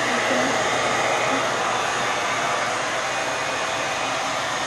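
A Knot Dr. hair dryer blows with a steady, loud whooshing hum that holds constant from start to finish, close to the microphone.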